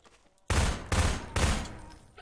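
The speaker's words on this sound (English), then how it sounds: "Why are you shooting those little cans?" Three loud gunshots from a Garry's Mod PropHunt match, fired at small cans, each a sharp broadband blast with a short decaying tail, spaced roughly half a second apart after a quiet lead-in.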